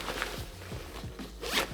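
The zipper on an outside zip pocket of a Remote Equipment Charlie 25 backpack is pulled in a few quick, close rasping strokes, and the last and loudest stroke comes near the end.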